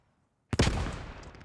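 A single close, sharp gunshot crack bursts out of silence in the World War II shooter Post Scriptum during a firefight, followed by a rolling echo that trails off across the next second.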